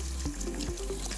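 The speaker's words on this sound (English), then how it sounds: "I'm now going to rinse her off in cold water" Cold water runs from a salon tap over hair being rinsed after a semi-permanent colour, a soft steady pour and splash heard close, with a few faint low thumps.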